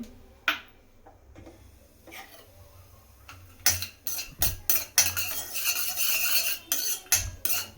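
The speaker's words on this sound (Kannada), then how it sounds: "ದ್ರಾಕ್ಷಿ ಮತ್ತು ಗೋಡಂಬಿ ತೊಗೊಂಡಿದ್ನಲ್ಲ ಅದನ್ನು ಹಾಕ್ಕೊಂಡು ಸ್ವಲ್ಪ ಫ್ರೈ ಮಾಡ್ಕೊಳ್ತೀನಿ" Raisins and cashews are fried in a pan for gasagase payasa, starting with a few quiet clinks and then turning into a busy run of close metallic scraping and rattling from the spoon against the pan.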